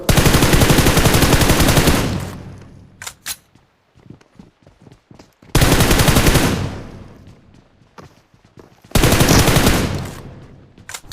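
Gunfire in a BGMI mobile-game fight: long sustained bursts of rapid automatic fire alternate with scattered single shots and footsteps in the pauses, loud and close.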